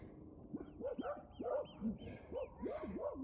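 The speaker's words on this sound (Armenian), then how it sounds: "վնգստոցներ, շների, կամ խփում են, կամ իրար են վնասում" A pack of dogs roams around an unspayed female, whimpering, yipping and squabbling: a rapid string of high, rising-and-falling whines and yelps, fairly close and continuous, with no talk.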